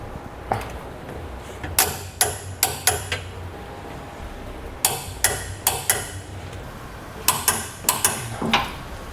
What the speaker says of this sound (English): Now we'll torque all the hardware down to the amount specified in the instructions.